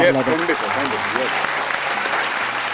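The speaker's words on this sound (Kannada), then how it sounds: "ಆರ್ಟ್ ಡೈರೆಕ್ಟರ್ಗೆ ಒಂದು ದೊಡ್ಡ ಚಪ್ಪಾಳೆ" Audience clapping for a stage show's art director, dense and sustained applause throughout with a voice briefly audible at the start.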